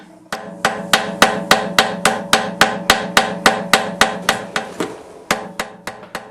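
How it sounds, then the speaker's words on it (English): A hammer strikes a steel bundle being forge welded at the center for a butterfly hinge, about twenty sharp, ringing blows in a steady rhythm, loud and close with no voices. "I start by forge welding the very center of this bundle"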